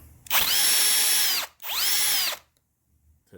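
Two loud whirring bursts from a power drill backing out a Phillips head screw, each about a second long with a rising then falling motor whine, close up and separated by a brief pause before silence.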